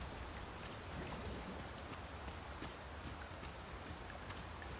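Steady rain falling in the video game Dragon's Dogma II, a dense even hiss with scattered soft drop ticks, constant and moderately quiet throughout with no talking.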